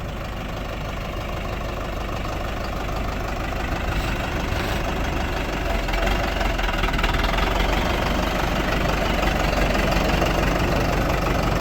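A Scout TD-1104C tractor engine runs steadily with a loud, knocking diesel chug, holding an even rhythm and growing slightly louder toward the end, with no talk over it.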